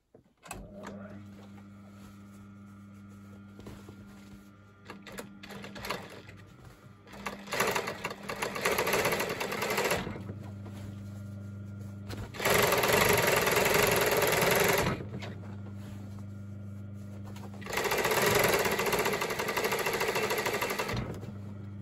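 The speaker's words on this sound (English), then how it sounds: "I'm just going to put this through so you can actually see how the machine does work" A sewing machine stitches lined curtains in three long, loud bursts of steady mechanical whirring, separated by quieter stretches of motor hum and handling clatter, with no talk.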